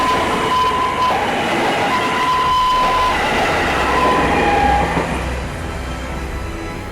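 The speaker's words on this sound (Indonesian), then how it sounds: "ia berhasil keluar dari rel kereta tepat saat kereta melintas" A train rumbles loudly past nearby, wheels grinding with brief high squeals, the roar easing slightly toward the end.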